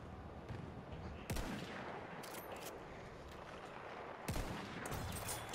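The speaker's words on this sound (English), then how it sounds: "sniper battle here, it's a bit ridiculous" Sniper rifle gunfire in a Battlefield 1 multiplayer battle, with two sharp cracks about three seconds apart standing out over a constant dense wash of distant battlefield noise and scattered smaller shots.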